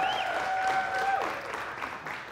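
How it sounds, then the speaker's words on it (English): A church audience applauding, a dense steady patter of many hands that fades slightly toward the end, with a faint tone underneath. "I wish they wouldn't clap now"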